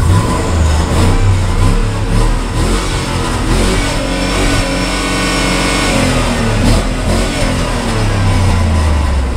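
A 2005 GMC dually flatbed work truck runs rough, its engine revving loudly and continuously up close with an uneven, throaty drone and no voices.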